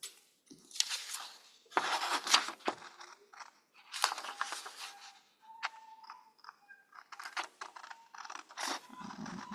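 Scissors snip through paper while cutting out a hand-drawn tic-tac-toe board, giving a string of crisp, close cuts in uneven bursts with short pauses between them.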